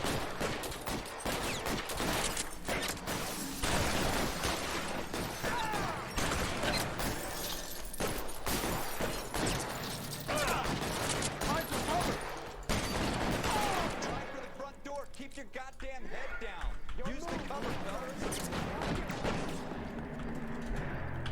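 Gunfire in an L.A. Noire video game shootout crackles in rapid, dense bursts of shots layered over busy game audio, loud and continuous, thinning briefly near the end.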